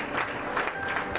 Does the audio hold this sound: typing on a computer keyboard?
no